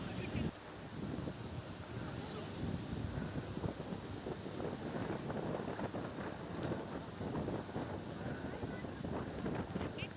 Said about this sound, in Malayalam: നല്ല കാറ്റ് വീശുന്നുണ്ട്